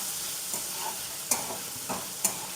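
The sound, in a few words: peas cooking in a pan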